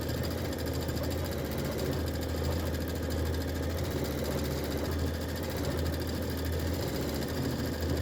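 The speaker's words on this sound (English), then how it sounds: "Okay, that's going to stitch for a little bit." A ScanNCut machine runs steadily while stitching flower and leaf shapes, a close, even mechanical hum with a dense rapid needle pulse and a low droning motor, unbroken and unaccompanied by talk.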